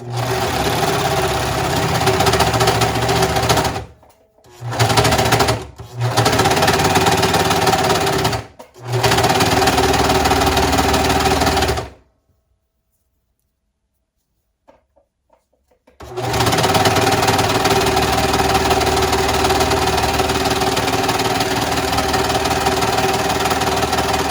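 An electric sewing machine stitches the sleeves of a women's tuxedo in long, loud, steady mechanical runs. The runs are broken by brief stops and one longer silent pause before the stitching resumes.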